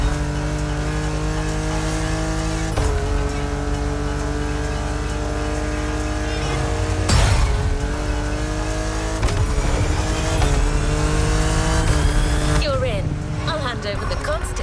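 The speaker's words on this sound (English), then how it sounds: "Good thing you're driving the 1969 Camaro Z28." A 1969 Camaro Z28 in the racing game The Crew Motorfest roars at steady high revs, with shifts and surges in pitch and a dense mix of tire and music-like layers, while a voice talks over the engine throughout.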